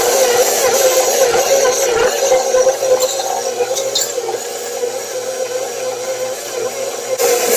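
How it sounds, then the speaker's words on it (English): A stand mixer whisks milk bread dough enriched with butter and 13 grams of yeast, giving a steady, continuous mechanical whir and scraping churn at close range with no talking. "I'll let this continue to whisk about 10 to 15 minutes"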